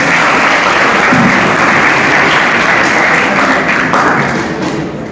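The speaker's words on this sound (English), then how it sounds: "please give a big round of applause" An audience at a medical students' debate competition applauds at the close of the debate, a dense, loud and sustained wash of clapping from many hands that fades slightly toward the end.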